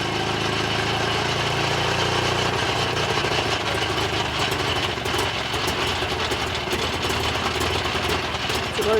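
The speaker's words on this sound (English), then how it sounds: "It's a very strange sounding engine, even for a two-stroke." A vintage 1924 Trojan two-stroke car engine runs steadily nearby, a rough, buzzing idle with a rapid uneven putter, loud and continuous.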